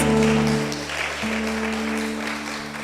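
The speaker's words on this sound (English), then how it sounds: "Another round of applause for Madam Principal," Audience applause at a school graduation and prize-giving ceremony rolls on steadily, a broad even clatter of many hands under a low electrical hum, tapering slightly toward the end.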